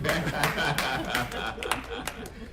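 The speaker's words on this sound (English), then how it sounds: "go ahead, you want to clap?" Scattered audience clapping at a media briefing about an Aurora housing development, a burst of uneven claps and a few chuckles mixed with a murmuring room, moderately close.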